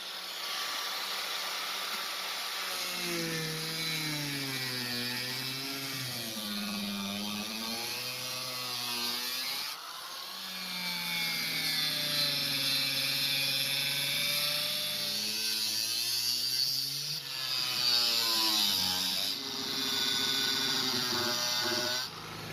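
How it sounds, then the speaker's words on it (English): An angle grinder cuts a hatch opening in the body of a Jaguar car, giving a sustained, loud whine whose pitch sags and rises as the disc bites into the metal, continuing for over twenty seconds. "Got my grinder."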